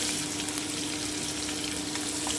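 Chopped onion frying in hot oil in a pan, a steady close sizzle and crackle that fills the whole moment with no talk.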